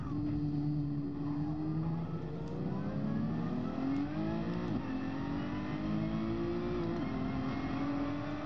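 A McLaren F1 race car engine in the GT Sport racing game drones loud and continuous, its whining pitch rising and falling as it accelerates and shifts, with no voices.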